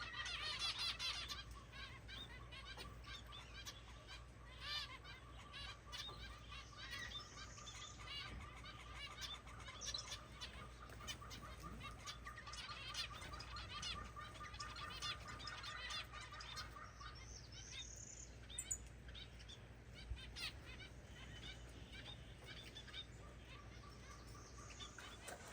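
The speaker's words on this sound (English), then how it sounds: "And here are the little finches." Small finches in a sanctuary aviary chirping continuously, many quick high tweets overlapping throughout at low level, with steady background hum.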